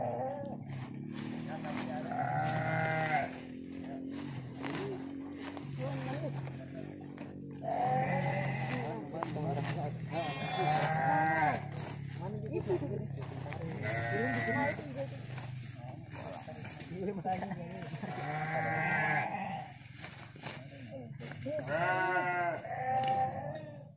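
Goats bleat repeatedly at a farm, with several loud, wavering calls rising at intervals over a steady low background while people talk nearby.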